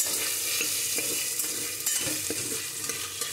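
Potato pieces fry in a pan for a vegetable curry while a spoon stirs them, scraping and clicking softly over a constant close sizzle, with no one speaking.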